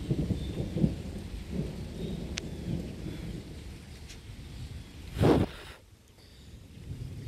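Thunder rolls through a storm over a flooded creek, a low rumbling roar with a louder crack-like swell near the end, over a steady wash of rain and water noise.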